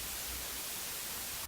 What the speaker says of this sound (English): if I'm going to add a white noise to the background, my preferred volume level is about 8